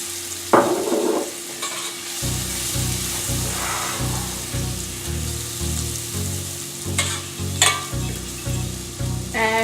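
Parsley is stirred into melted butter with garlic, giving a steady frying sizzle with rhythmic scraping stir strokes throughout, close and moderately loud.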